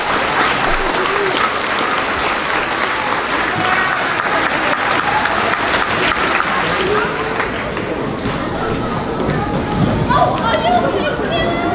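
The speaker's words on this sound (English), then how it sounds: "give them another round of applause" A crowd at a 5th grade moving-up ceremony applauds steadily, with dense, sustained clapping and chatter mixed in. The applause stays loud and even throughout and thins slightly toward the end.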